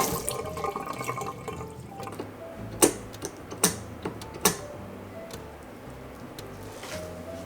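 Water from a tap runs as a handmade gauze cloth is wetted, a continuous faint stream with several sharp drips or clicks near the middle, no speech.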